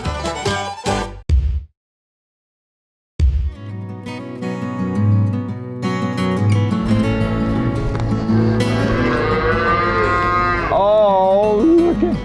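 Calves moo repeatedly on a dairy farm, with long, loud, close bawls following one another and overlapping throughout, after a brief silent gap near the start.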